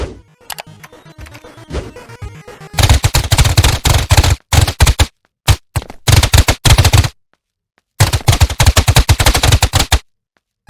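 Rapid bursts of gunfire from a boss enemy in the Karlson video game, loud and close, coming in dense rattling volleys separated by short silent gaps, with no speech.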